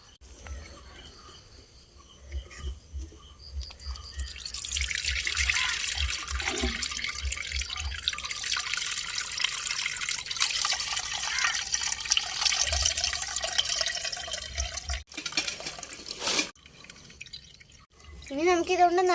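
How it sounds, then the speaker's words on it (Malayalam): Fish amino acid liquid, homemade fertiliser full of black soldier fly larvae, strained through a sieve, a steady close trickle and drip of liquid over a long stretch, with a voice talking quietly at moments. "ഇനി നമുക്കിതൊന്ന് അരിച്ചെടുക്കാം കേട്ടോ."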